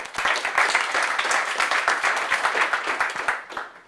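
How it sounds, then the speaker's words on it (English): A conference audience at the OSFC 2018 firmware event gives a dense round of clapping for the speakers. The applause is sustained and fairly near, then tapers off toward the end, with no speech over it. "Big round of applause,"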